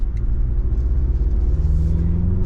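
A 2023 Mazda CX-50 2.5T turbo SUV driving on the road, heard from inside as a loud, steady low engine and road rumble with no voices.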